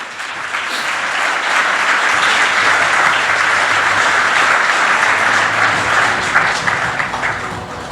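Church audience applauding during a sermon, with sustained, even clapping that fills the whole stretch at a moderate level, alone and without speech.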